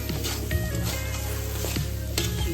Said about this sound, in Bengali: মোটামুটি শাকটা ভাজা হয়ে এসছে